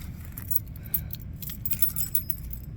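A bunch of keys jangles close by in a quiet indoor room, with bright metallic clinks scattered across the clip over a low steady background hum.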